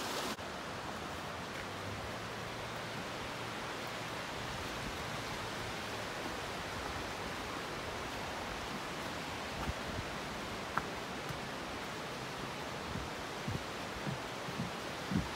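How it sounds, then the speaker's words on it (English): A small brook flows beside a hiking trail near a boardwalk at Southford Falls State Park in Connecticut, making a soft, even wash of water that continues unbroken with a few faint ticks and no voices. "that's the little brook that you hike by"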